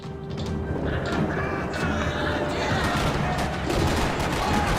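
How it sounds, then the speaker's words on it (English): Dense, continuous gunfire rattles and crashes in a busy, chaotic parking lot scene in the video game Max Payne 3, loud and unbroken for the whole stretch. "Another parking lot rattling with gunfire."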